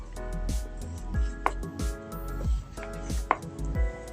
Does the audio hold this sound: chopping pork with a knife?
yes